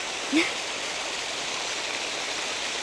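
Water pours steadily from a water pump, a soft, even rush of flow that runs through the whole stretch, with one brief chirp near the start.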